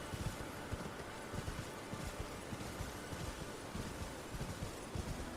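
Horse hooves gallop steadily in Elden Ring, a continuous rapid clip-clop rhythm close by, laid over a broad wash of wind and rustling ambience.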